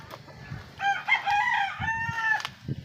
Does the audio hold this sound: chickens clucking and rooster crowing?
yes